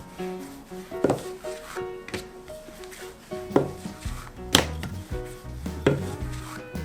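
Potato bread dough is rolled out thin and round by hand, with a rolling pin giving irregular wooden knocks and thumps against the board amid soft rubbing and brief scraping, close and clear.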